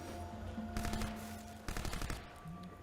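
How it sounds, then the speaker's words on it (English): Gunfire from the Crysis video game demo on a 2006 GeForce 8 DirectX 10 showcase: two loud bursts of rapid automatic fire, each about a second long, ringing over a steady background hum. "We can shoot the trees, we can destroy them, if Darren can hit them"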